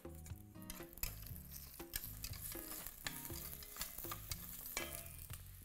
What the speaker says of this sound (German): Kartoffeln in den Topf, ca. 5 Minuten anbraten.